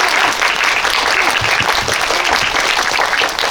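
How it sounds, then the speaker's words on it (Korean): Audience applause at a Seoul Independent Film Festival post-screening Q&A, clapping for a film's director and two actors; dense, steady clapping fills the hall throughout, with no talk over it. "세 분께 다시 한번 큰 박수 부탁드립니다."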